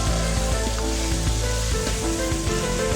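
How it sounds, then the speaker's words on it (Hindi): White cumin seeds fry in a karahi for black pepper chicken, giving a dense, constant sizzle with soft rhythmic stirring and light clinks underneath, close and fairly loud throughout. "इसको डालो और फिर इसको भी अच्छे से पहले फ्राई कर लिया ताकि इसमें ज़रा इसका जायका आ जाए"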